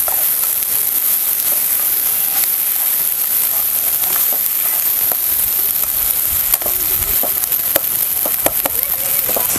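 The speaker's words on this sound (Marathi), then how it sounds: "तर आपण ह्यामध्ये घालूया टमॅटो सुद्धा आपल्याला पूर्ण मऊसूत होईपर्यंत आपल्याला हे भाजून घ्यायचं" Onion, garlic and tomato frying in a pan for a traditional cluster-bean curry, a steady close hiss and sizzle with occasional soft clicks and stirring taps.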